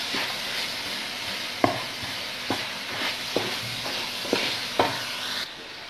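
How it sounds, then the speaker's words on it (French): Minced meat for a bolognese sauce frying in a pan, a steady close sizzle broken by several sharp clinks and scrapes of a utensil stirring it, with no talking. "Et je continue à faire frire ma viande."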